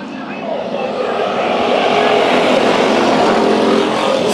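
A pack of six dirt-track race cars at Bakersfield Speedway roars off at the start of an eight-lap heat, a dense continuous engine blare that holds loud and steady throughout, with an announcer talking over it.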